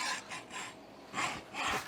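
A dull, worn hacksaw blade with a hole in it, cutting in slow back-and-forth strokes: four rasping passes, close and fairly quiet, with no talking.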